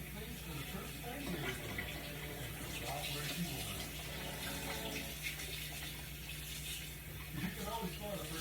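Tap water running steadily into a kitchen sink while hands are washed during cooking of Parmesan baked pork chops, a continuous faint splashing wash with a voice talking over it.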